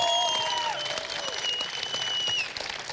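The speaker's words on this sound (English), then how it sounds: "I think you should give him a round of applause." An esports crowd at IEM Katowice 2016 applauds through a League of Legends match broadcast, with steady clapping and cheering that thins slightly near the end while tonal electronic sounds run over it.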